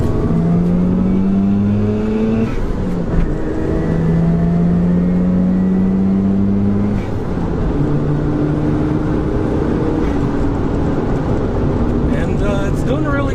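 A Mazda RX7 accelerates hard during a performance test, its engine rising in pitch through repeated gear sweeps with a loud, continuous drone and road roar heard from inside the car.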